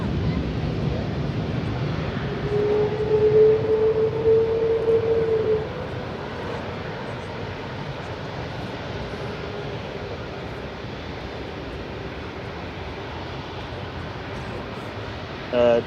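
An airliner taking off at Manchester Airport, a loud engine roar close by that fades into a distant rumble under wind buffeting on the microphone.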